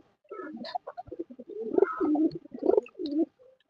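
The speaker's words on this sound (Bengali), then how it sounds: "এটাও একটা মাদি কবুতর" Sirazi pigeons coo in a series of soft, close, throaty calls, several overlapping bursts in an irregular rhythm with no talking.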